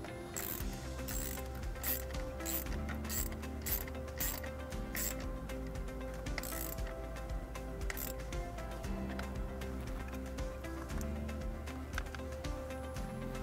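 A ratchet clicks in quick repeated bursts as a nut is tightened back onto a battery terminal of a 2017 Mazda 3 during a wiring harness installation, close and fairly loud over a steady mechanical background, with no talking.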